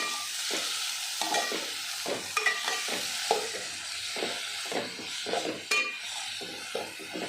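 Marinated soya chunks fry in a pan under a steady, close sizzle, with repeated spoon-scraping stirring strokes clattering through it for several seconds and no voices.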